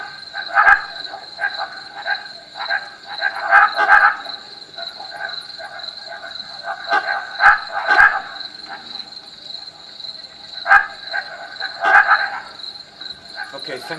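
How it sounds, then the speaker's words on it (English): Barking frogs floating on a water surface, croaking in repeated clustered bursts every few seconds over a steady high insect-like drone, fairly close and alone without talk. "and they're called barking frogs."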